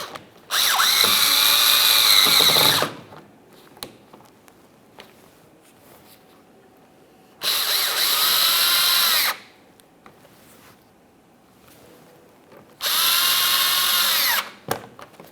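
A power drill snugs up fasteners on the bumper cover of a 2017-2024 GMC Acadia, giving three loud, close whirring bursts of two to three seconds each, separated by quiet pauses.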